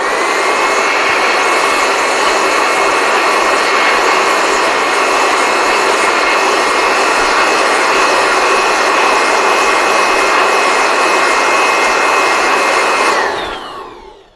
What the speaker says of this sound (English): Let's come with our blower.